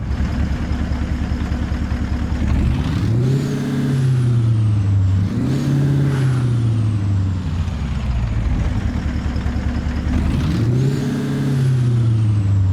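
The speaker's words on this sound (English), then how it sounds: "listen to this beautiful Peterbilt 389" Peterbilt 389 semi truck engine in American Truck Simulator, a deep diesel drone that rises and falls through three rev cycles with gear changes, loud and continuous without pause.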